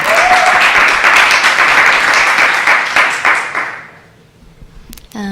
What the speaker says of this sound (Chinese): 我们接下来用掌声来欢迎兴荣来到我们当中